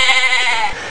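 A goat gives one loud, close bleat, a wavering nasal cry lasting about a second and standing alone.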